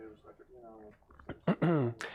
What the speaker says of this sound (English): I know I coughed, but it's not corona, okay?